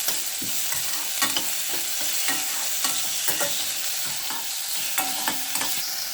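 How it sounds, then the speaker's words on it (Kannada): Vegetables sautéing with salt in a pan for a cauliflower bhaji give a steady sizzle, broken up by repeated scrapes and clinks of a spoon stirring. No one speaks. "ಸ್ವಲ್ಪ ಉಪ್ಪು ಹಾಕಿಬಿಟ್ಟು ಬಾಡಿಸ್ಕೋಬೇಕು ಇದನ್ನು."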